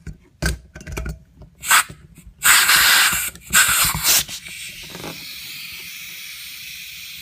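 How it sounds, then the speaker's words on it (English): Air hisses out of the valve of an inflatable Entex hot tub in several loud, close bursts of varying length, then settles into a steady, softer hiss. "if you hear all that air escaping, just turn this valve, push in and turn it until it locks itself"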